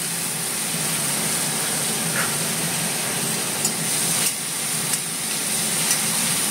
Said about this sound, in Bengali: এই যে দেখো পেঁয়াজটাকে ভালো করে ভাজতে হবে